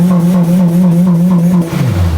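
A Honda RSX Type-S with a K20A engine sits on its rev limiter during a burnout, giving a loud, steady buzzing drone that holds for about two seconds and then drops away.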